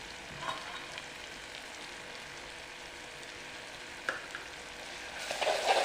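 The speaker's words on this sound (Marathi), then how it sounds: "व्यवस्थित मिक्स करून घ्यायचं दोन मिनटं परतून घ्यायचं हळद मीठ टाकल्यानंतर" Kadhi tempering with turmeric and salt sautés quietly in a pan, a faint steady sizzle with a few soft stirring knocks, louder near the end.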